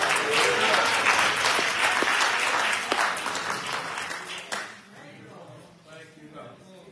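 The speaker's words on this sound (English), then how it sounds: "Now clap your hands for Jesus." Congregation clapping hands together at a funeral service, loud and dense at first, then thinning out and fading into scattered claps and room sound near the end.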